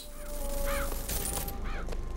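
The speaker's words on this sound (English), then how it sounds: "There's so many just crows." Several crows caw in the Bioshock Infinite video game, with repeated harsh calls spread over a steady ambient background, moderately loud and with no talk.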